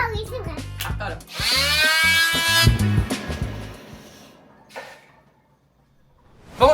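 A power drill whirs for about two seconds while boring a hole into a bedroom wall, loud and close, with children chattering over and around it before the motor stops.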